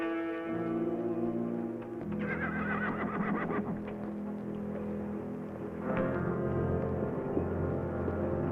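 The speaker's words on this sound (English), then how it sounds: "Tell Dobie to get the horse." A horse whinnies loudly and close by, with a long harmonic neigh followed a few seconds later by a second shorter one, over a steady low background rumble.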